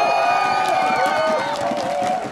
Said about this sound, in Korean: 문성현 선수에게 응원의 박수를 부탁드립니다.